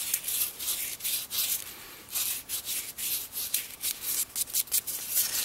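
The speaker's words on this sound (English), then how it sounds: "it's a wet dry sandpaper, and I'm just going to just lightly go around, and I'm going to work on the inside a little bit too" 400 grit wet-dry sandpaper rubbed around a coin ring, edge and inside, in quick uneven strokes of rasping friction, close and fairly loud, with short pauses between passes.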